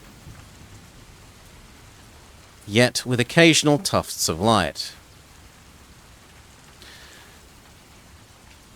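Steady hiss of a storm's rain over a lake and quay, with soft low rumbles of thunder beneath; someone narrates over it for a few seconds before the rain carries on alone.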